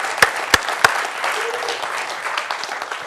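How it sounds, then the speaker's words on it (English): Brief applause at a talk: a few sharp, loud claps at the start followed by softer scattered clapping from a small group. "Can I get a round of applause for my mom?"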